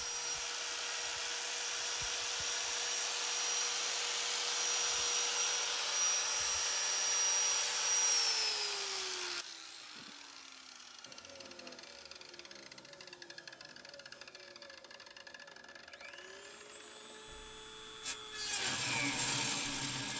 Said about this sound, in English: I switch back to the Dremel tool here just to make a little more fine cut